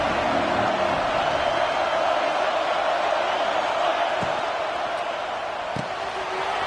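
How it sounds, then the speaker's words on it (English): Steady, loud roar of a college football stadium crowd fills the whole stretch, a dense wash of many voices with a couple of brief thumps, heard without any clear talk. "This crowd bringing the energy and noise early."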